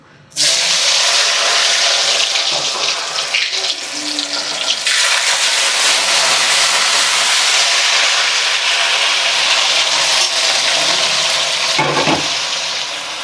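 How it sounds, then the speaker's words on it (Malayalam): Paneer frying in hot coconut oil in a home kitchen: a loud, steady, close sizzle and hiss that starts abruptly and holds for over ten seconds with brief shifts, no talk. "ഇത് പനീർ ഇനി ഫ്രൈ ചെയ്യണം"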